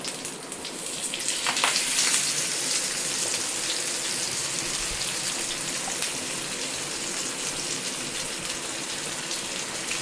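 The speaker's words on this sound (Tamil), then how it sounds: "மீன் வறுத்து எடுத்துடலாம்" Sankara fish fry in hot oil in a pan, giving off a steady dense sizzle and crackle that stays close and even from start to finish.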